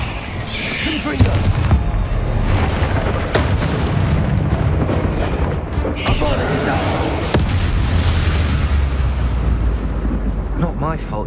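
Explosive Confringo spell blasts from the Hogwarts Legacy video game, a dense run of booming, crackling bursts with rumbling low impacts over about eleven seconds, loud and close, mixed with game effects.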